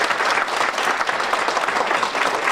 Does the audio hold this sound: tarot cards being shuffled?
no